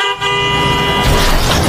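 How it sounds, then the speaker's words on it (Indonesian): A heavy tronton truck's horn blares loud and sustained in a film scene, then gives way to a harsh burst of broadband noise as the truck strikes someone. "Betapa kagetnya semua orang saat Mamang Maklar tersambar truk tronton"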